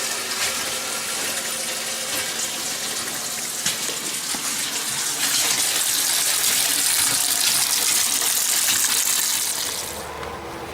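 Water rushes steadily as a pump fills a Suburban SW6DE RV water heater tank, a loud continuous hiss and gush that swells midway and eases near the end, with no talking.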